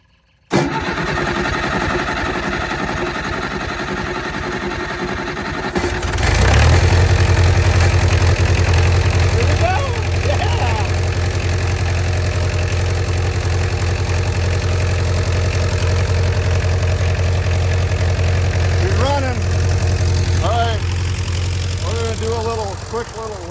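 A small engine cranks and catches, then settles into a steady low idle that runs on loud and close, with a voice speaking over it now and then.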